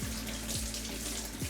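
A kitchen tap runs steadily while fruit and vegetables are rinsed under it, a close, continuous splashing wash with faint bumps of the produce, no speech.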